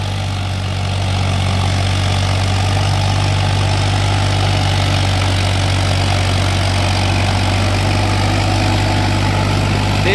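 A Farmtrac 60 tractor engine idles steadily and loudly up close, with a constant deep rumble that holds even for the whole stretch and no voices over it.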